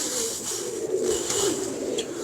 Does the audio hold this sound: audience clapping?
no